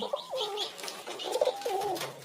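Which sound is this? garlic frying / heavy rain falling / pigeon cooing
pigeon cooing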